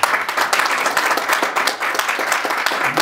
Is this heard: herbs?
no